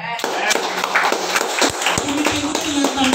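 Audience clapping in a talk setting, a loose close patter of hand claps mixed with a voice speaking over it.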